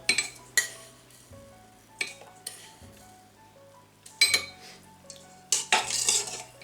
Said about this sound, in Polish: zamieszam trochę i odstawię dosłownie na kilka minut